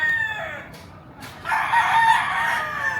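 A Sweater Gilmore gamecock rooster crows nearby and loudly, with a short opening call followed by a longer drawn-out crow.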